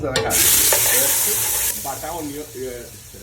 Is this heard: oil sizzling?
yes